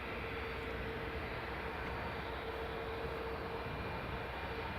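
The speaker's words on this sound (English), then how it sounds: "Now we'll catch it taxiing back to the terminal." A Saudia Airlines Boeing 777 taxis after landing at Newcastle International Airport, its engines giving a steady, continuous distant roar and whine that holds level throughout with no voices.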